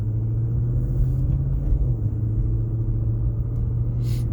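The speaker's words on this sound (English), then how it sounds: "Until it warms up, you can hear just a little bit of like a ticking or almost like a knock, but not as loud." Engine of a 2017 Chevy SS sedan idling cold, a steady close low rumble with a faint ticking, knock-like piston slap that persists until it warms up.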